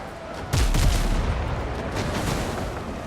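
Ship cannons fire in the pirate video game Windrose, a loud booming volley with overlapping blasts and a rumbling tail that lingers for several seconds.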